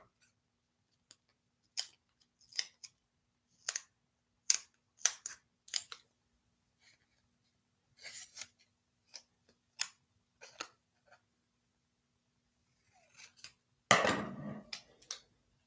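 Scissors snipping paper for a bullet journal layout, a series of separate crisp cuts spaced out in a quiet room, with a louder rustle of paper near the end.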